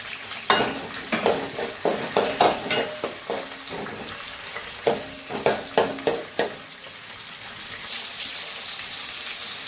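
Tomatoes and onions sauté in a pan, with a run of rhythmic stirring scrapes about every half second over a steady sizzle, then a softer, continuous fry near the end, with no voices.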